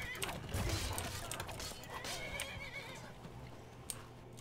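A horse in the video game Skyrim neighs and whinnies with clip-clopping hooves, mixed with game clatter and a person talking over the scene.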